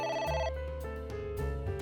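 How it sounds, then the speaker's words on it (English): A telephone rings in the video game AI: The Somnium Files, with a bright electronic ring pattern that repeats steadily over low background game music for about two seconds. "Phone is ringing."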